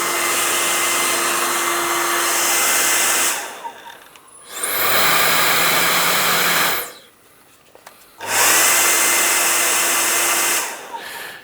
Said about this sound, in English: Let's test out the Panasonic.